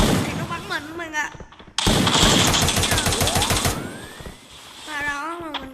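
Rapid automatic gunfire from a mobile battle arena game fires at the player, loud bursts of dense rattling shots with game effects and announcer-style cues mixed in.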